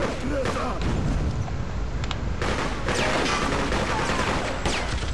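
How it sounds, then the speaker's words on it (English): Machine gun fire in the video game Freedom Fighters, loud dense bursts of rapid shots continuing throughout amid other game noise. "You hear that machine gun sound?"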